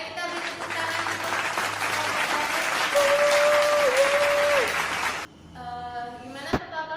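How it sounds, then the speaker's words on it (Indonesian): A classroom of students applauds for a winning discussion group, dense close clapping sustained for about five seconds before cutting off, followed by a short voice. "Ayo kita beri tepuk tangan untuk"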